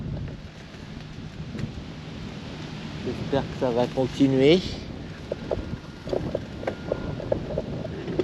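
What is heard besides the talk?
strong wind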